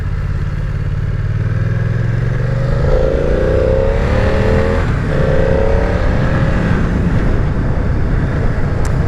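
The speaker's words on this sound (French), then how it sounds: "on sent que la moto se réveille bien, mais on est quand même sur une accélération" A BMW F 900 R, the A2-licence version, accelerates hard: the engine note climbs steadily through a rising rev sweep, then shifts and climbs again, loud and close, over constant wind and road roar.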